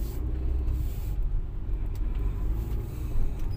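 A car with a hole in its exhaust pipe rumbles at idle, a loud, steady, deep truck-like drone close by with slight pulsing and no voices.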